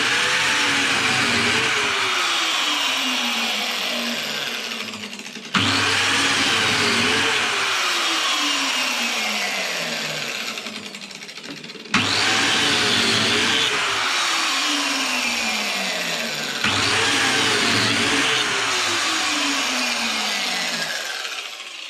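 A power biscuit joiner cuts slots for wooden biscuits into a multimedia furniture panel, with four loud, close whining bursts of a few seconds each, separated by short pauses as the motor restarts.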